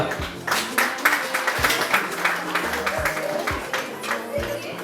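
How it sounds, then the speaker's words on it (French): An audience applauds a woman's arrival at an evening event, scattered claps layered over music with deep, thumping bass hits, and a voice present in the mix. "Est-ce qu'on peut applaudir pour elle?"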